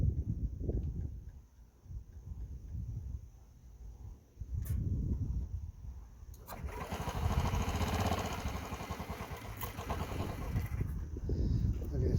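A Honda Metropolitan scooter engine cranks on starting fluid, with low rough chugging that surges into a loud, steady running roar partway through, heard up close with brief pauses between attempts.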